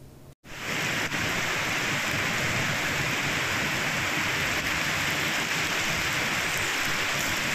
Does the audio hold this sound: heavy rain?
yes